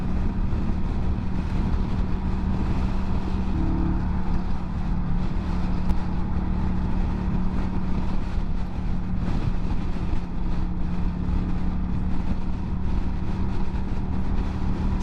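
A Kawasaki Vulcan 900 motorcycle cruises on the freeway in strong wind, a steady low engine drone and hum under constant wind roar, unbroken throughout.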